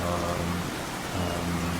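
Steady rain hiss fills the scene with a broad, constant wash of drops and a faint low rumble underneath, with no speech.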